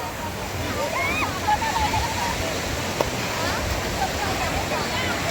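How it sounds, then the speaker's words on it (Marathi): Sea waves rolling onto a beach at Alibag in the afternoon make a continuous loud wash and roar, steady throughout with faint distant voices mixed in. "पाण्याच्या लाटा कशा वाढत चाललेल्या आहेत बघा."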